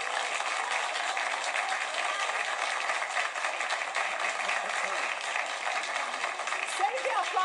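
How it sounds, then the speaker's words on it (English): Steady audience applause fills the room from start to finish, dense and even in level at moderate distance, with faint voices mixed in beneath the clapping. "save the applause till the end."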